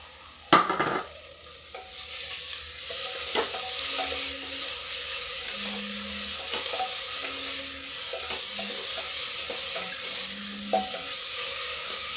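Moong dal tipped into a hot pan for veg pulao and stirred, opening with a clatter as it drops in, then steady sizzling and frying under repeated scraping strokes, close and without talk.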